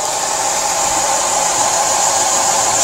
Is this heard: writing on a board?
no